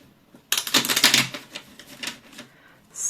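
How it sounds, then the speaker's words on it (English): A deck of tarot-style cards being shuffled off camera, a dense burst of rapid riffling clicks for about a second, then softer scattered card slaps and shuffling that trail off. "Okay, I'm just shuffling it off camera because I can't do it on camera since there's so many cards."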